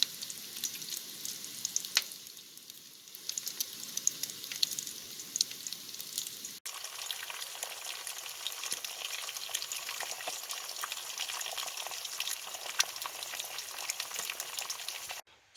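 Eggs fry in an old cast iron pan at a campsite, a steady crackling sizzle with fine popping, louder and busier after a brief break partway through, with no voices.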